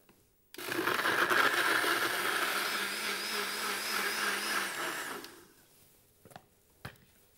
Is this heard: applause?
no